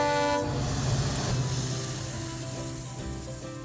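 A freight train led by a WDG-4D diesel locomotive rumbles steadily nearby, its low drone with harmonic tones of a horn fading out at the start, continuous throughout.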